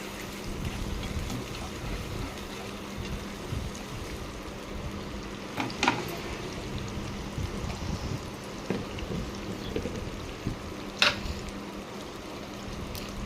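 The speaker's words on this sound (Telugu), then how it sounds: "ఆనియన్స్ ఎర్రగా గోల్డెన్ కలర్లో ఎగితే సరిపోతుంది" Onions fry in a pan with a soft, continuous crackle and sizzle, broken by a few sharp clicks of stirring.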